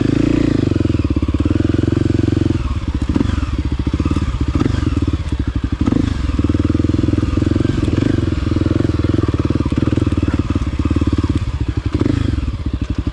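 A Kawasaki KLX300 dirt bike, a 2024 model, lugs along in second gear on a rooty trail, the engine a loud, close, steady thrum punctuated by clattering thumps and brief surges as the bike bounces over bumps.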